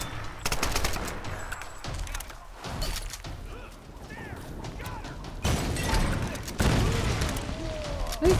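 Gunfire in the Tomb Raider video game, repeated shots and bursts in quick clusters among crashing and mechanical game effects, with people talking over parts of the action.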